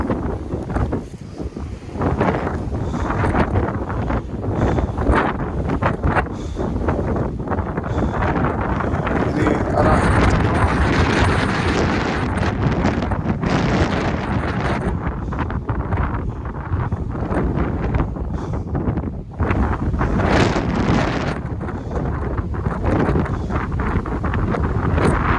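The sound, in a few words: strong wind on a mountain trail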